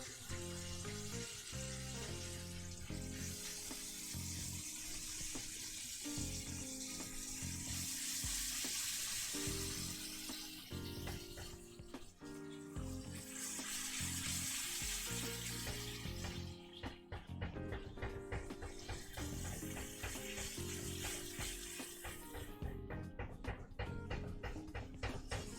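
Nacho meat sears in a pan with a steady, quiet sizzle and frying crackle throughout, joined by scraping and stirring as the meat is broken up.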